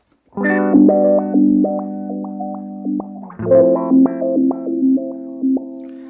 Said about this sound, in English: just so we can hear basically what the random patterns are doing on our instrument signal